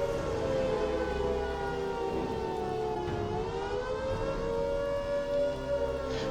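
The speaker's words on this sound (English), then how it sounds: "These sirens indicate the imminent threat of nuclear launch." Civil defense sirens from the Fallout 4 video game wail together at a Brotherhood of Steel headquarters at Boston Airport. A sustained, layered siren tone dips slightly in pitch midway and then holds steady, loud and unbroken, with no speech.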